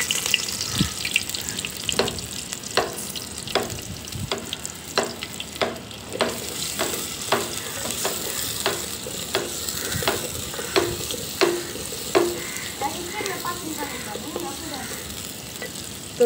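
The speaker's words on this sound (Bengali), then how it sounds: "তো পেঁয়াজটা বাদামি কালার করে নিব।" Onions frying in oil in a clay pot from Naogaon give a steady, close sizzle, punctuated throughout by regular scraping and stirring strokes, with no talking.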